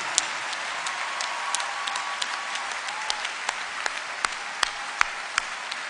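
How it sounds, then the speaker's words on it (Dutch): Audience at a Belgian Rode Neuzendag charity show applauding the volunteers, a broad continuous wash of clapping with sharp individual claps standing out near the front, lasting several seconds. "Voor jullie een daverend applaus!"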